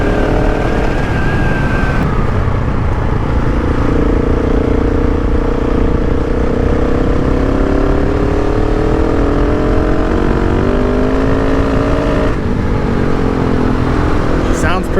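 A KTM 690 Enduro R motorcycle engine drones steadily as it climbs a mountain, revving up and down with a buzzy, raspy tone throughout.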